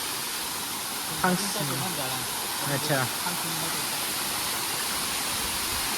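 Thangsiniang waterfall in Meghalaya, a steady broad rushing roar of falling water filling the whole clip, with brief talk over it near the start.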